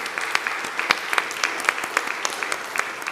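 Applause at a church annual meeting for the financial staff, a moderate group clapping in a steady patter with distinct sharp claps popping out.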